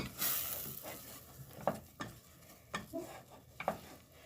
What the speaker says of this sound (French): mon beurre a bien fondu. Je vais rajouter ma farine d'un coup